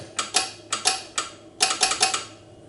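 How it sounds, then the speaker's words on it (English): Telegraph key tapping out SOS in Morse code, a near, crisp series of metallic clicks in grouped bursts: two quick taps, a pause, then a longer run of rapid taps, alone without voices. "dash, dash, dot, dot, dot. That sounds like this."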